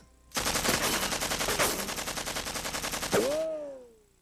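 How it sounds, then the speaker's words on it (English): An automatic weapon in a cartoon fires a loud, rapid, continuous burst of shots for about three seconds, followed by a ringing metallic whine that fades out; no one speaks over it. "All you gotta do is just keep pulling it and pointing the gun."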